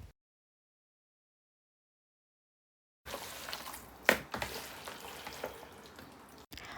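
After about three seconds of silence, chicken pieces are mixed by hand with masala for biryani, giving close, moist squelching and stirring sounds with one sharper knock partway through.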